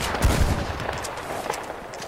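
Gunfire rings out at a legendary white bison in the Red Dead Redemption 2 video game, a loud burst of shots up front followed by fading echo and background game sound.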